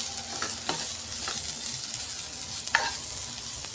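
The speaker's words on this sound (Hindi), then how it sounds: "अब हम इसमें डाल देंगे हमारे कांदे और इसको हल्का सा सौते कर लेंगे।" Chopped onions with salt sauté in a hot pan, a continuous close sizzle and frying hiss broken by a few spatula stirs and scrapes against the pan.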